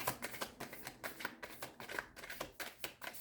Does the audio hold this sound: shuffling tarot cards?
yes